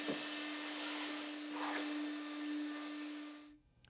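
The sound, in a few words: vacuuming sand off a concrete floor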